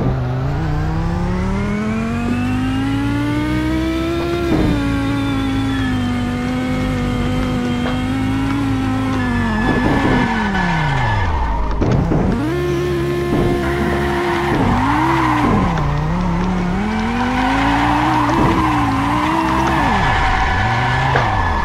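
Race car engine in a Roblox video game, heard loud and alone, pitch climbing and falling through gear changes, with repeated tire skids and squeals as the car corners.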